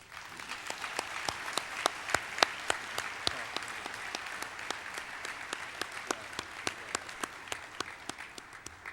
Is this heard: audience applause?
yes